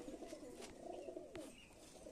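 A pigeon gives a steady, low, soft coo, a gentle rolling murmur at close range, with a couple of faint clicks and no talking.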